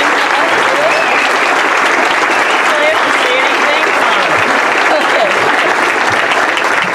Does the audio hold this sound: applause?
yes